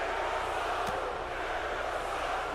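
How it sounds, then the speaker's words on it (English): Video game wrestling crowd in WWE 2K18 chanting "Jericho sucks" at Monday Night Raw, a steady dense roar of arena voices filling the whole stretch with no single voice standing out. "The crowd chanting Jericho sucks now."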